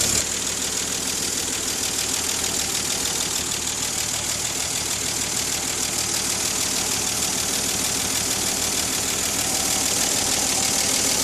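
A Styleline generator engine runs at a steady, loud, even drone that rises slightly toward the end as the RPM is raised. The vibration carries continuously with no speech over it.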